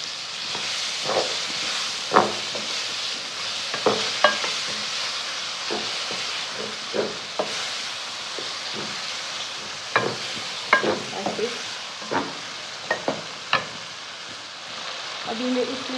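Minced meat keema with yogurt is stirred in a sizzling pan, with a steady hiss of frying beneath irregular scraping and clanking strokes of a spoon against the metal.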